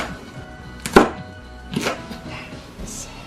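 A knife slices chili peppers diagonally on a cutting board while water kimchi is being made, giving three sparse, separate cuts with quiet gaps between them.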